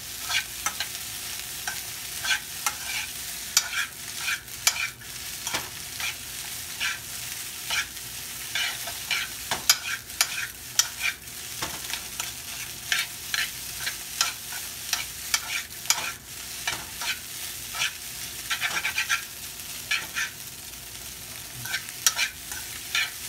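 Home-cooked fried rice with leaves being stir-fried in a pan, continuous sizzling broken by frequent rapid scraping and clinks of a spatula throughout.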